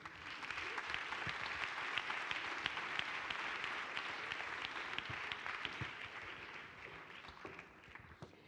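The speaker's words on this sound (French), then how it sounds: "Merci de les applaudir." An audience claps at a conference stage event, a dense, steady applause of many hands lasting several seconds at moderate level, easing slightly toward the end.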